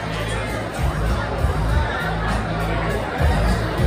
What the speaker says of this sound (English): Crowd over behind us, crowd inside.